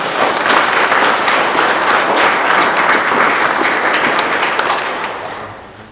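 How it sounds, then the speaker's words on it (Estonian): Audience at an automotive trades skills competition applauding its sponsors, a dense, loud burst of many hands clapping that holds steady for several seconds before tapering off at the end. "Teeme neile suure aplausi!"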